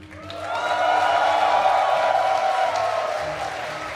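A large live crowd at an esports tournament in Hamburg roars and cheers in a sustained, loud wash that swells quickly and slowly fades, with whistles and shouts rising through the din.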